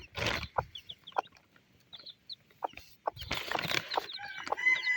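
Newborn curly black chicks under a warm plastic cover, giving high, thin peeps and chirps scattered through the clip, close by, with a few denser bursts of chirping and soft clucking-like calls.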